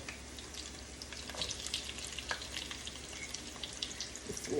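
Chopped onions hit hot oil with cloves, cardamom, cinnamon and bay leaf while pigeon meat is being cooked, giving a steady, fairly close sizzle with small crackles and pops throughout.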